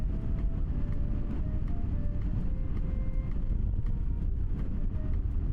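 Steady, heavy wind roars against a bicycle rider's microphone throughout an evening ride, a constant broadband rush with faint rolling tones underneath and no voices.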